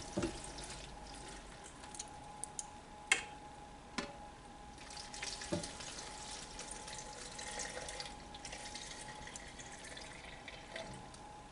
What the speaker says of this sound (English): we're going to fill our blender with water